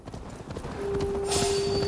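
Hooves pound steadily as a horse gallops in Assassin's Creed Valhalla, close and continuous, with a sustained steady tone rising underneath partway through.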